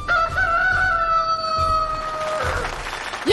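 A voice imitates a rooster's crow in a Japanese comedy drama, one long rising-then-sustained call held steady for about two and a half seconds before trailing off, loud and close with no other talk.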